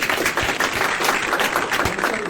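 Audience applause at a Hindi comedic poetry recital: a steady wash of many hands clapping, loud and close, filling the whole short stretch without pause.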